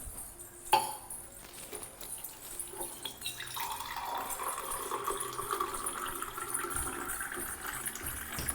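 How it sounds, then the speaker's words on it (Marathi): Water pours steadily onto a plant, a continuous splashing trickle that starts after a brief bump and grows fuller and steadier, heard close with no voices. "हां झाडाला पाणी टाक"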